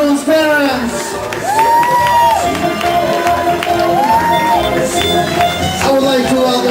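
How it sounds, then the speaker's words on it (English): Wedding guests cheer and applaud the groom's parents, a loud crowd roar with whoops and shouts over music, sustained throughout. "I want to see a big round of applause for Boris and Lilia Starkman, groom's parents."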